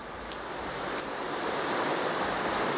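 Minecraft rain pouring in a constant broad hiss that swells slightly toward the end, with two brief faint clicks early on and no speech.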